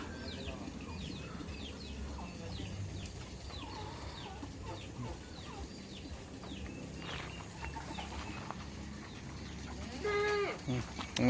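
Goats bleat and poultry clucks throughout on a farm, over a steady outdoor din, with a louder cry near the end.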